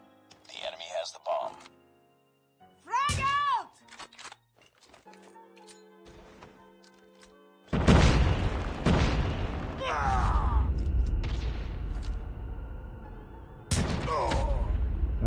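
Frag grenade explosion in Call of Duty Mobile hits as a loud, close boom with a long rumbling tail, followed by gunfire bursts and game sounds, after earlier short effects and in-game voice lines.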